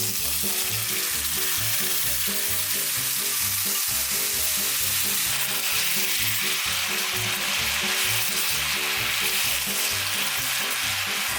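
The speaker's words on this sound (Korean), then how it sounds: "이렇게 만들어둔 소스를 부어줍니다" Steady, loud sizzling and bubbling of chicken steak sauce poured into a hot frying pan, crackling continuously throughout with no voices.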